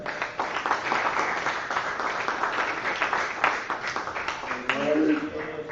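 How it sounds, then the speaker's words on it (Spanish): Audience applause after a technical conference on predictive control for industrial processes, a continuous patter of clapping from a room of people, with a voice speaking near the end. "Un aplauso de nuevo para él."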